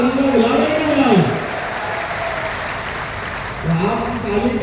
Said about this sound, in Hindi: ताली वाली बजा